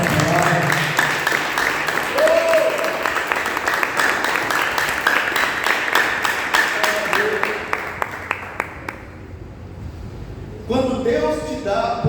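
A church congregation claps loudly and steadily for about nine seconds under a preacher's voice, then the applause fades out and speech continues alone.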